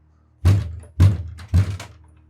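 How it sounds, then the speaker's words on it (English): A door is pounded three times in an even rhythm, each a heavy, close, booming thump with a short ringing decay, with quiet between blows. "He pounded on the door,"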